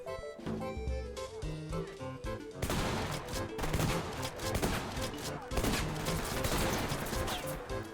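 Rapid gunfire from the tactical shooter game Ready Or Not, dense bursts of shots crackling over a rumbling background during a rooftop firefight, loud and continuous, with no one talking.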